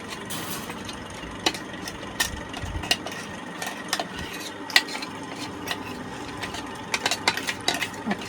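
Prepared paste tipped from a pan onto a metal plate, with scattered scraping clinks and light metallic taps over a low background hum, no talk.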